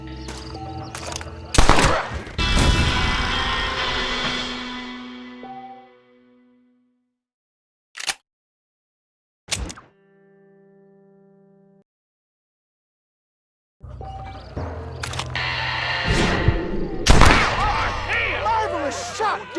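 Gunfight in the Western game Red Dead Redemption: loud, sharp revolver shots crack in bursts with brief echoing tails, separated by near-silent gaps and a few isolated single shots, alongside occasional speech.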